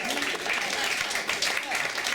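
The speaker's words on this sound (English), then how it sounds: "Sure, give her the applause." Audience members at a New York comedy club clap steadily for a couple of seconds, a soft, even patter heard from some distance.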